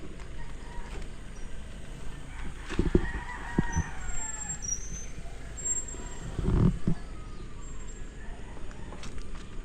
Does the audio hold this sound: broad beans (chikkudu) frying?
no